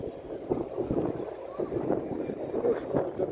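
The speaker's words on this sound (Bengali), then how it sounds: "আর এখন এই টেরেস থেকে প্রচণ্ড হাওয়া" Strong sea wind sweeps across a hotel terrace beside the sea at New Digha, a steady, loud, rumbling roar buffeting the microphone throughout.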